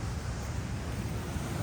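Waterfall at Costley Mill Park, a steady broad rushing roar with no breaks, fairly distant and even, and no voices.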